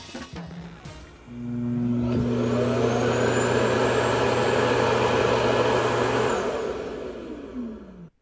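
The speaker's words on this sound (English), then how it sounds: "I set the X11 to vacuum this area twice at full power." An Ecovacs X11 OmniCyclone robot vacuum runs at full power, its loud whooshing motor rising up after a few seconds, holding steady and close, then winding down near the end.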